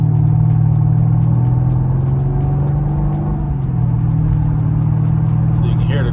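A 2009 Mercedes-Benz SL550 V8 rumbles low and steady with a deep exhaust note, rising slightly as it revs, loud and close throughout.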